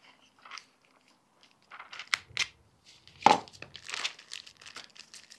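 Plastic vacuum packaging around a raw pork loin being cut and pulled open, giving scattered crinkly crunches and tearing bursts that peak in a sharp louder rip near the middle, with quiet gaps between the handling noises.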